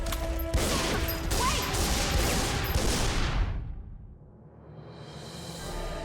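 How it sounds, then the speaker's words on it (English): Gunfire rings out in the Tomb Raider: Underworld video game, a loud burst of rapid shots and crashing impacts for about three seconds that then drops away into a quieter rumbling ambience. "I know our good friend Zed is shooting at us!"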